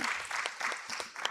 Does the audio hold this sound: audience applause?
yes